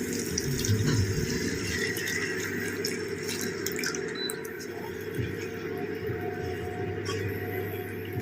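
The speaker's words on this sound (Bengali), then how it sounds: "এই অরেঞ্জের জুসটা সম্পূর্ণ দিয়ে দিচ্ছি" Orange juice pours steadily into a hot pan of orange chicken, a continuous close liquid splashing and sizzling that runs the whole time without pause.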